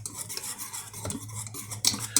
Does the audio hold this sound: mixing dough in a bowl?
yes